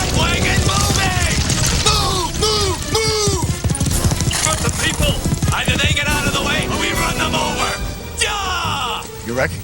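Horses' hooves clip-clop steadily as a carriage is driven at speed, mixed into a busy, dense scene under loud voices and other clattering sounds.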